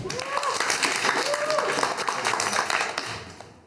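Steady applause from a live comedy roast audience fills the whole stretch, with a faint melodic voice sliding through it, fading slightly at the end.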